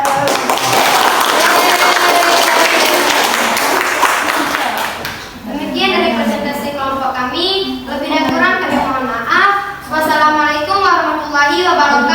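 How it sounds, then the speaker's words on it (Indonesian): A classroom gives group 4 a round of applause, dense clapping filling the room for about five seconds before it fades into someone speaking. "Kita beri aplaus kepada"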